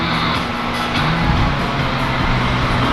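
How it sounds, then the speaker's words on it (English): A shop fan runs steadily and loudly close by during work on an SW20 Toyota MR2, a constant broadband whoosh with a faint low hum and no break. "This fan's probably killing the audio."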